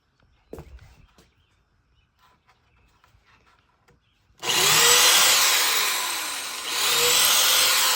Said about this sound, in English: he's pre-drilling the holes and then he's using screws instead of nails